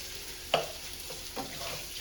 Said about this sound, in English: we're just going to dump the sausage in and start browning those up